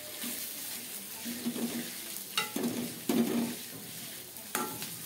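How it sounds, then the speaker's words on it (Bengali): New potatoes stir-fried with onion in mustard oil sizzle softly in a pan, with a few scrapes and clinks of a spatula stirring at intervals, close and fairly quiet. "আলুগুলো একটু কষলিয়ে দিয়ে দিচ্ছি,"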